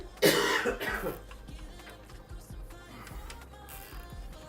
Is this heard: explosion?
no